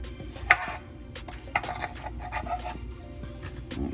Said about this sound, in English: When you cut them, you extract the juice quicker.